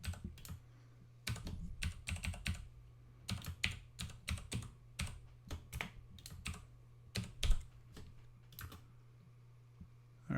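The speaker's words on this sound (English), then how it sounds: "Let's see if I can get this typed in correctly." Steady typing on a computer keyboard, with bursts of sharp key clicks in uneven runs over a constant low hum, close and fairly loud, no voices.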